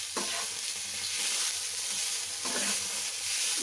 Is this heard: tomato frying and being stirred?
yes